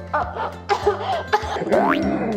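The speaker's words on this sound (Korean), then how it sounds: "네이비가 기침을 해서 초코볼을 뱉어냈어요" A child coughs in a few short, harsh bursts, close by, amid a cartoonish voice-like sweep and other sounds.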